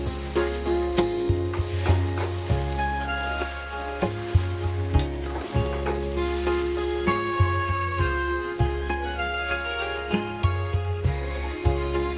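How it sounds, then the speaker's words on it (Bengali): Khichuri being stirred in a small, overfilled wok, with steady frying sizzle and repeated spoon scrapes and knocks against the pan in a fairly even rhythm, close and fairly loud with no talking. "এবার ঘাটবো আস্তে আস্তে করে, কারণ এই খিচুড়ির উপকরণগুলো সব একটু বেশি হয়ে গেছে আর কড়াইটা আমার ছোট হয়ে গেছে"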